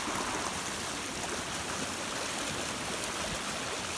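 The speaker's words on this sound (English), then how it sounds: "It goes all the way up the brook here." A brook flowing beside a camp in spring, with a water pipe running up along it; a steady, soft, even rush of water with no change in level and no voices.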